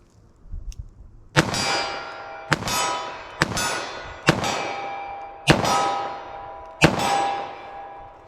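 Six sharp, loud 10mm handgun shots fired double action at 25 yards, spaced about a second apart, each a hard crack with a ringing tail, outdoors with no talk.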